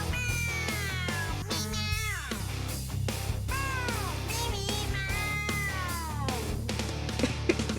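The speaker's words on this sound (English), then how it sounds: "Baby meow." A kitten meows repeatedly in high, drawn-out cries, several in a row, close up over a steady low hum.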